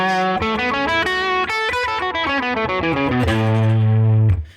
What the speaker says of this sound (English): we're just going to play the pentatonic